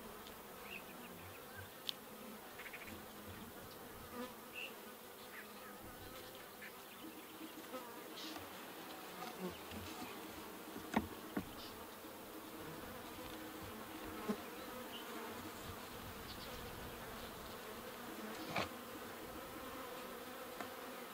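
Honey bees buzzing steadily during an inspection of a single-deep horizontal hive, a continuous soft droning swarm with occasional faint knocks and clicks, fairly close but low in level.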